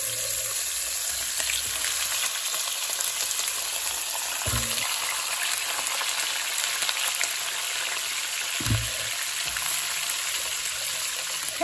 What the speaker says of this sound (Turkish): İnciklerimizi öncelikle mühürlüyoruz